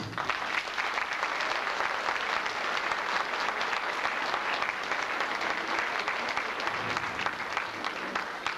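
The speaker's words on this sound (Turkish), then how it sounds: "O hocamızı bir alkışlar mıyız?" A crowd applauds a teacher steadily at a Holy Birth Week event in Mordoğan, Karaburun, İzmir, a dense and even clapping that carries on without pause and with no voices over it.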